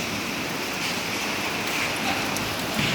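Constant hiss of heavy rain falling and spattering on surfaces nearby, a steady broadband wash with no voices.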